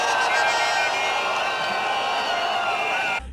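Large crowd at a political rally in Cameroon cheers and shouts loudly and continuously, a dense roar of voices that cuts off abruptly near the end.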